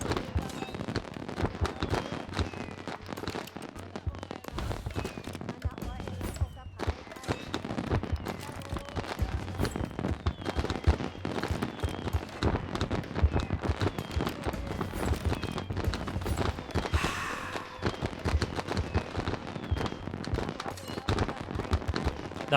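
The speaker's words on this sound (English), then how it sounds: "The fireworks are way too loud." Fireworks in the video game Civilization VII: a loud, continuous run of crackling bursts and pops, dense and unbroken, with a few heavier booms mixed in.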